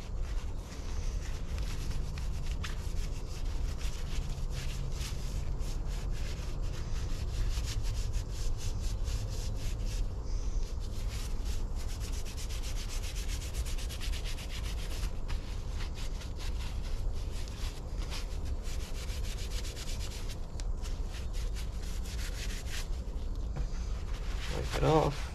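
A rusty ratchet is scrubbed with steady rapid back-and-forth rubbing strokes, a continuous gritty scratching close by that pauses briefly now and then.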